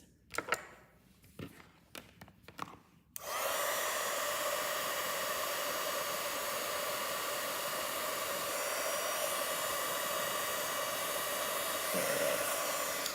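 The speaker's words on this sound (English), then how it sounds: "Now I'm gonna heat emboss this." A heat embossing tool blows hot air over a stamped card, a steady loud whooshing hiss that starts abruptly after a few handling knocks and runs unbroken to the end.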